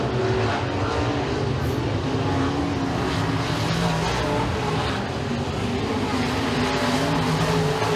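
Race cars roaring around a dirt speedway during a heat race, a dense, continuous engine drone that stays loud throughout, heard from trackside.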